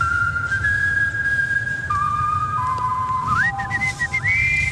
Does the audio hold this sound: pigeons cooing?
no